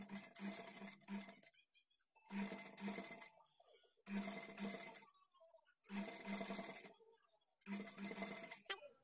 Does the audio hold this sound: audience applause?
no